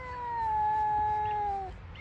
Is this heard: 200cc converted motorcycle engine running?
no